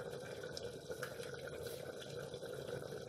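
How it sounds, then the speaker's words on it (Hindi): A spoonful of oil poured into a pot of water for biryani rice in a home kitchen: a faint, brief liquid trickle and dripping under a soft background hum. "1 चम्मच में इसके अंदर तेल डाल दूँ"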